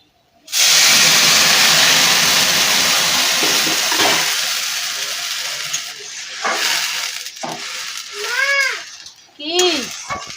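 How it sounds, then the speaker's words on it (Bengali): Milk poured into a hot pan hisses and steams loudly and steadily at home, the sizzle slowly fading over several seconds while a child and an adult talk over the end. "দুধ দিচ্ছি ঢেলে।"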